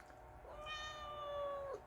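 A cat gives a single drawn-out, high meow close by on an outdoor patio, brief and clear against quiet background.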